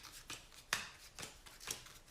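A deck of cards shuffled during a solo Marvel Champions card game session: five or six sharp, quick riffling bursts spaced roughly half a second apart, close and fairly quiet.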